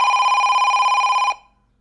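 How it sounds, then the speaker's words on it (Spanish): A telephone bell rings loudly and steadily for just over a second, then cuts off and fades to silence. "El teléfono, ¿verdad? El teléfono."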